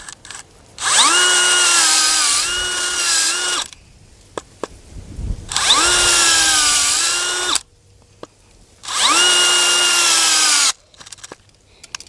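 A power auger drill whines loudly in three long bursts, its motor pitch dipping as it bores into clay soil for planting bulbs, with short quiet pauses between.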